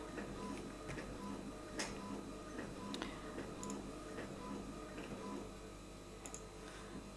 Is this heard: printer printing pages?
yes